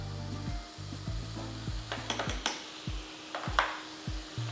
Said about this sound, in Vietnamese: Ta sẽ đảo thật là đảo to lửa các cụ mợ nhá